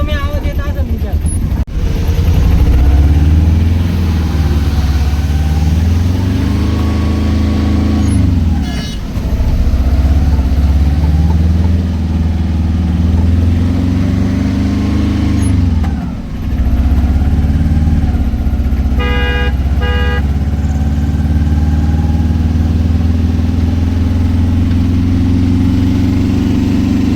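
A Maruti Eeco car engine runs steadily, a loud, close, continuous low drone with a few brief dips in level over nearly half a minute, and no talking over it.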